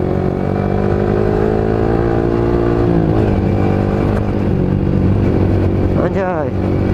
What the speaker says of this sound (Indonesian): Kita pakai motor Asan Leader guys.